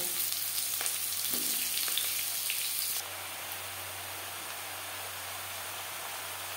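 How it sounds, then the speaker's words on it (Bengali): Chopped bottle gourd frying in a pan with dried red chilli, bay leaf and whole mustard seeds, a steady close sizzle that settles into a softer, even hiss partway through. "এবার দিয়ে দেব টুকরো করে কেটে রাখা লাউ।"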